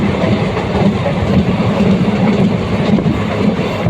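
A Weekly Express passenger train between Tiruchirappalli and Puducherry runs at speed, giving a steady, loud rumble with dense wheel clatter throughout and no talking.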